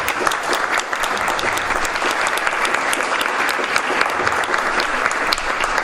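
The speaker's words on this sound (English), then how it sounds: "So let's give them one more big round of applause and a Texas welcome." A big audience applauds steadily at a policy forum on democracy in Mexico and U.S.-Mexico relations, dense continuous clapping filling the room at close range with no pauses.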